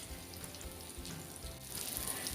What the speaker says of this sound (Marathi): त्यानंतर आपण जो हलव्याला मसाला लावले तो व्यवस्थित आपण आता तळून घेऊया